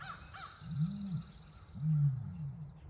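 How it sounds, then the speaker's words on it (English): Male ostrich calling, two deep low booming pulses about a second apart, fairly faint and close, with a few brief higher chirps at the start. "That's how Carl calls his lady friends"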